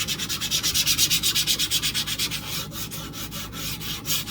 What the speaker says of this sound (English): I am going to just scuff this up just a little bit because, oh, I hate that sound.